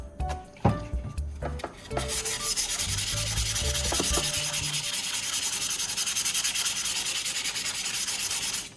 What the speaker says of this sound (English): you can use a piece of fine grit sandpaper to clean up the surface even more